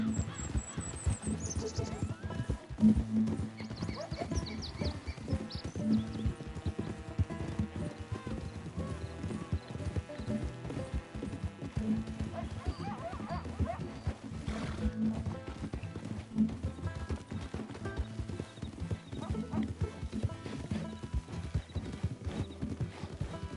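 A horse gallops in Red Dead Redemption 2, with rapid, steady hoofbeats drumming continuously up close, under game background sounds and a faint whinny early on.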